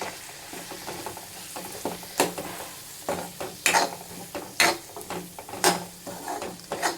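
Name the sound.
spices sautéing in pan for kuzhambu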